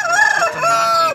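A Kakinada rooster crows at a Pileru poultry market in one loud, close, drawn-out cock-a-doodle-doo lasting about a second, with no talk over it.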